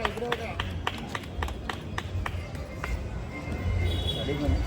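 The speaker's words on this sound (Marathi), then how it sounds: "टाळ्या वाजवा रे." Scattered audience clapping for prize winners at an Ambedkar Jayanti celebration, sharp claps in the first few seconds that taper off under nearby chatter and voices.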